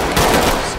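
Gunfire in the tactical shooter game Ready or Not, a dense burst of shots filling the whole short moment, loud and close with no talk over it.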